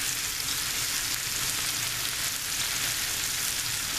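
Loud, dense, continuous sizzling of minced garlic frying in a pot roast pan, an even crackling hiss with no voices.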